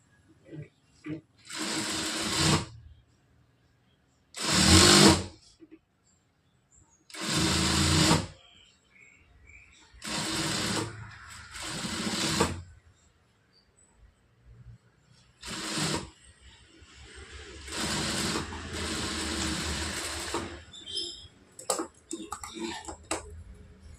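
A sewing machine stitches a blouse in several separate bursts of rapid mechanical whirring, each lasting a second or two, with short pauses between them. The later runs are longer and more continuous.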